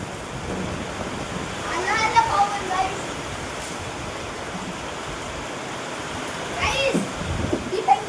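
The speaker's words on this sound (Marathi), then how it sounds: "एवढा पाऊस. हा पाऊस पाणी बघा." Heavy rain and wind lash down in a storm that sways a large tree, making a steady broadband roar with a few louder gusts, while a voice talks over it.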